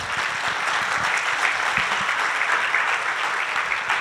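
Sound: audience applause for the panelists

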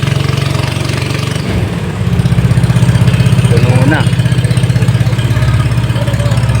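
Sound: diesel boat engine pushing through water hyacinth

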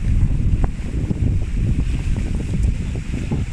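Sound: strong wind

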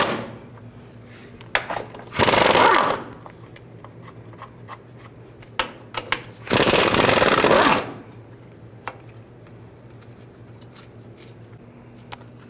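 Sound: loosening 15 mm bolts on Ford Fusion cradle

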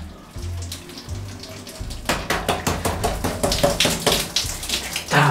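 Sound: running water for a bath

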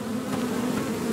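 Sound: bees buzzing from a beehive in Blade & Sorcery video game

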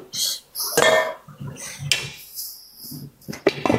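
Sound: cooking pot being covered with lid

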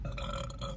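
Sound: burp after drinking Sprite

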